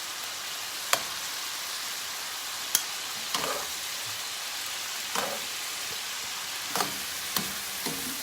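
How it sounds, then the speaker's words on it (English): Squid frying in a pan for black rice seafood paella with cuttlefish ink, a steady soft sizzle with a few sharp pops and clicks of stirring scattered through, no voices. "As you can see, the squid is releasing some juice, which is very nice."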